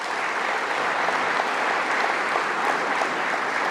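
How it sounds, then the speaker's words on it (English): Steady, dense applause from a conference audience fills the hall at DjangoCon Europe 2023's opening welcome session, holding an even level without a break for the whole stretch. "Can I have another round of applause?"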